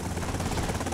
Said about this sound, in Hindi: हेलीकॉप्टर भी है यार